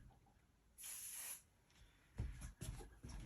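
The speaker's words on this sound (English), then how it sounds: "Just put a little dab of spray of the basting spray." Basting spray from an aerosol can sprayed onto cutaway stabilizer, one short hissing burst followed by faint handling noises and light taps.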